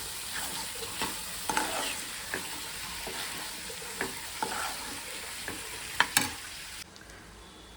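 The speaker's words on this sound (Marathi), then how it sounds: "आपण त्याच्यामध्ये ओलं खोबरं टाकून ढवळून घेऊया." Grated fresh coconut stirred into a roasted val bean curry in a pan, with a continuous soft sizzle under repeated light scraping strokes of a spoon. A louder clink comes near the end before the hiss fades.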